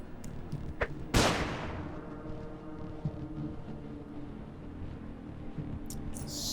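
A flashbang goes off in the video game Underrail as one sharp, loud blast that quickly decays into a low rumble, with a few smaller thuds and crackles around it over steady ambient game noise.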